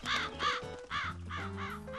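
A giant crow in a cartoon caws five times in a quick, harsh, nasal series, loud and close, over a low sustained musical note.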